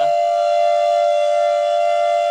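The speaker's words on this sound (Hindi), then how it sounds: "देखिए 4 बज गया, 4 बजे हम लोग का ऐसे ही सायरन बजता" A factory siren marks four o'clock with one loud, steady, unbroken wail held at a constant pitch from start to finish, with no voices over it.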